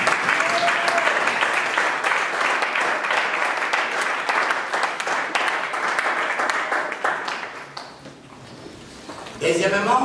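A conference audience gives sustained applause, a dense wash of many hands clapping loudly for several seconds. It fades out near the end as a voice returns.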